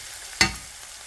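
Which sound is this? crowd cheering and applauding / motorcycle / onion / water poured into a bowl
onion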